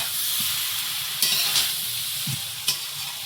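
Grated ginger sizzling in hot oil in a pan, a steady bright frying hiss with a few soft stirring knocks, close and alone.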